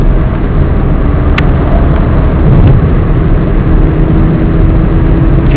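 Steady low engine drone of a manual-transmission car cruising in fifth gear at about 2000 RPM and 60 km/h, loud and continuous with no talk.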